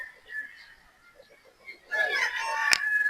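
A gray straight-comb gamecock rooster crows loudly and close in the second half, with a sharp click near the end, after a quieter stretch of faint background sounds.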